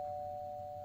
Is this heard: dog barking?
no